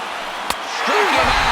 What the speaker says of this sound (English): Now this small but vocal crowd come to their feet.